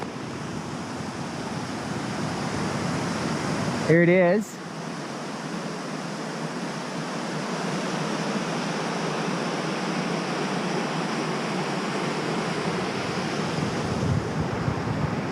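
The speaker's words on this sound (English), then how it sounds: "just off the PCT on a bridge that goes over a creek that is called Bridge Creek" Bridge Creek flowing beneath a bridge just off the Pacific Crest Trail in Washington State, a steady broadband rush heard from above, with wind buffeting the microphone and a short spoken phrase early on.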